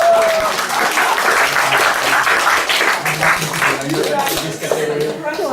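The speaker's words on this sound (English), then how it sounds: "Okay, a big applause." An audience at a 2012 performance award ceremony in Vietnam breaks into applause, a loud crowd of clapping hands throughout while people talk and call out over it.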